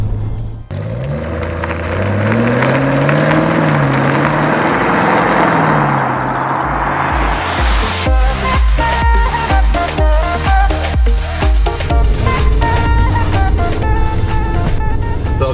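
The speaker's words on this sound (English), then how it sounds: "It's a valved exhaust as well, by the way, so you probably tell straight away it makes so much noise." Engine and valved exhaust of a 720 bhp Stage 2 Audi RS6 while driving: a loud, close drone rising and falling in pitch, then a harsher, busier rumble with rapid pulses, filling the whole stretch with no talk.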